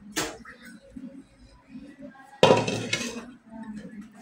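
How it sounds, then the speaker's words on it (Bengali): Plates and dishes clinking and knocking as an iftar spread is set out, with a sharp clatter of crockery midway, close and fairly quiet, with a few soft bumps around it. "প্লেট সাজাই দিচ্ছে।"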